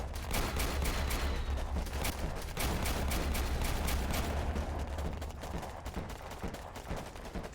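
Rapid machine gun fire rattles nonstop in the Warpips strategy game, dense bursts of shots layered over low battlefield rumble, loud and continuous throughout with no talking.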